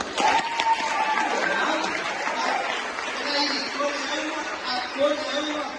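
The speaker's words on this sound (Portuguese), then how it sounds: "um aplauso mais coletivo." Audience applause at a K-pop dance showcase, a steady wash of clapping from a crowd with chatter and voices mixed in throughout.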